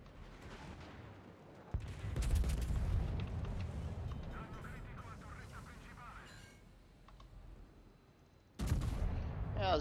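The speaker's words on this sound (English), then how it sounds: "Congo is giving us a broadside." A naval video game battle with a ship's cannon broadside: deep rumbling booms and roaring blasts swell and fade, then another sharp burst near the end, with a voice talking over the fire.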